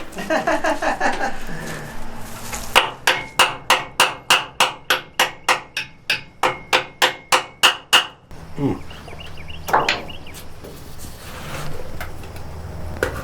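A rapid run of about twenty sharp hammer blows in steady rhythm, close and loud, on an old Detroit dragline in a Florida sandpit, with scattered talk and clatter before and after.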